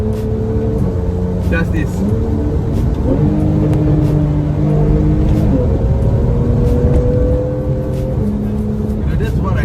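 A Porsche 991.1 Carrera S flat-six blips and drops through a rev-matched downshift, its engine note stepping up and down in pitch under someone talking close by.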